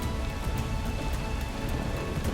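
Steady heavy rain pours onto a surface in a dense, even hiss with scattered drops spattering throughout. There are no voices and no breaks in the downpour.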